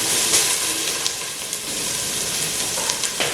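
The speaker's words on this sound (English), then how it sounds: "I'm going to put my olive oil into the pot, just enough to coat the pan." Olive oil heating in a pot on a stovetop gives a steady hiss and faint sizzle that runs throughout, with a few soft clicks and taps on top.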